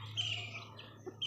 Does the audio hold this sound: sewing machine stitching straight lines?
no